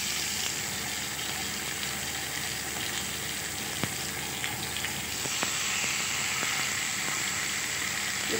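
Beef steaks sizzle steadily in hot oil in a grill pan, making a continuous close crackling hiss with a few sharper pops and spits and no voices.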